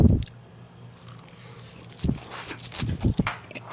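Biting and chewing on Korean samgyup pork wrapped in nori, with a soft bite at the start and then a cluster of close, wet crunchy chews near the end.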